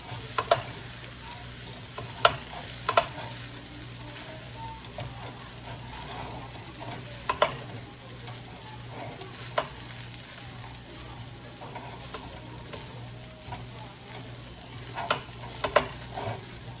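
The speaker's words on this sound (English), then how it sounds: "So we're gonna stir this bad boy up." Ribs and cabbage with rice being stirred in a cooking pot: repeated scraping and clacking strokes rise at irregular intervals over a steady low sizzle and simmer, close and moderately loud.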